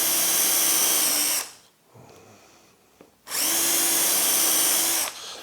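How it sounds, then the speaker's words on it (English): A power drill bores a pilot hole for hooks in two loud, steady whirring runs separated by a short quiet pause with faint handling noises. "just drill a pilot hole"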